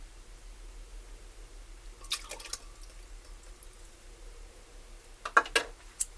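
Vinegar poured into a homemade salad dressing, heard as two short, quiet splashy pours a few seconds apart against a soft background hush.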